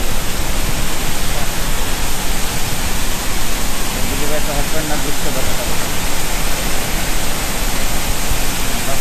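Savdav Waterfall in Sindhudurg roars steadily as a dense, continuous broadband rush of falling water, loud and unbroken throughout, with people talking over it.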